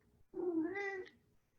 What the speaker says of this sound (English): you may hear my cat in the background.